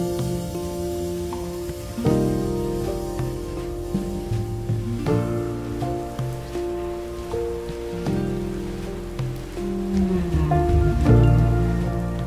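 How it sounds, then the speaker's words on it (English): Rain falling outside, heard as a constant hiss and patter on surfaces, fairly loud and close, with tonal music playing over it. "let's see if we can run in while this rain is coming down."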